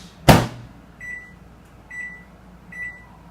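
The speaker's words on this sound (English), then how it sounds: "you will need to set this in the microwave for another 16 hours" A sharp clunk like an appliance door shutting, followed by three evenly spaced electronic beeps from a nearby microwave, quiet hum beneath.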